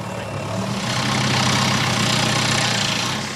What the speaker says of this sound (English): they've done everything they realistically can to make the lawnmower run on biogas.